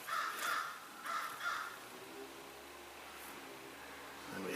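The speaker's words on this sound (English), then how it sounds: "we have the call of the crow in the background" A crow caws in the background, a few quiet, separate call bursts in the first second and a half, then faint ambient noise with a low hum.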